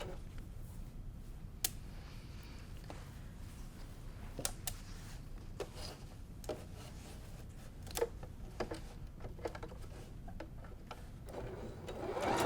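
A sewing machine chain-pieces quilt fabric, a low steady mechanical whir running throughout with scattered sharp clicks and ticks on top, fairly quiet and close, with no voices.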